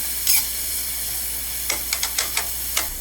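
Onions softening in a pan give a steady soft sizzle and hiss, with a few brief scraping stirs and light clinks partway through.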